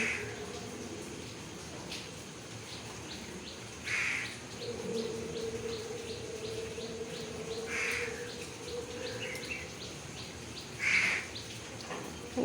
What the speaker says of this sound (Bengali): দেখো পাখিগুলো কিভাবে ডাকছে। এখানে তো কাকটা ডেকেই যাচ্ছে।